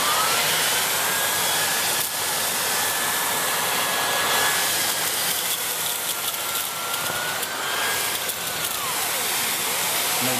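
A Shark NV681UKT Powered Lift-Away vacuum cleaner running with its turbo brush gives a steady, loud whine and motor roar, with the pitch shifting slightly as it works over a chair.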